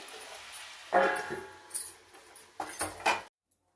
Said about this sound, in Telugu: ఇప్పుడు మూత పెట్టేస్తున్నానండి.